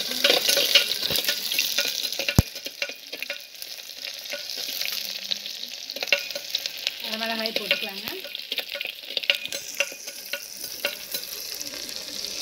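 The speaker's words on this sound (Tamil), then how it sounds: "சின்ன வெங்காயம் கருவேப்பிலை போடலாங்க" Shallots and curry leaves frying in a pan with mustard seeds, a dense continuous sizzle with crackling bursts and a brief stirring scrape partway through, no talking.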